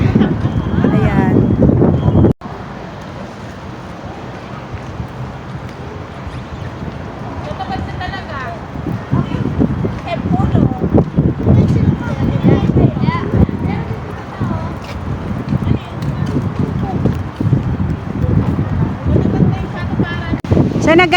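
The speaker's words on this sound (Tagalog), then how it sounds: "Sobrang hangin dito guys." Strong wind buffets the microphone at an outdoor spot in Riyadh, Saudi Arabia, a heavy low rumble that surges and drops throughout, with a person talking over it.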